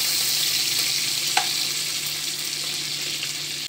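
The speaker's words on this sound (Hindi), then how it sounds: "ये आम और कड़ी पत्ता अच्छे से फ्राई होने देते हैं।" Cumin, mango and curry leaves fry in hot oil in a pan, giving a dense, steady hiss that stays close and even throughout, with one brief clink midway and no speech.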